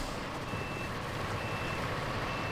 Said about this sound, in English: the backup alarm is actually identical